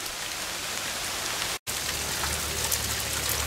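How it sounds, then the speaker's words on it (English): Pouring rain comes down in Florida while the sun shines, a loud, dense, unbroken roar of drops on surfaces, briefly cut by a split-second gap midway, with no talking. "Pouring down rain, and the sun's shining."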